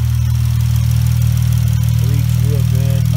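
Chrysler 300 with a 3.6-litre Pentastar V6 fitted with a new intake kit, running at a steady, loud low hum throughout, with a few brief higher tonal chirps near the end.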